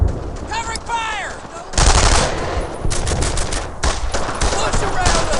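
Loud, sustained machine-gun bursts rattle in a World War II shooter, Brothers in Arms: Earned in Blood, dense rapid fire filling most of the span after a short stretch of quieter sounds.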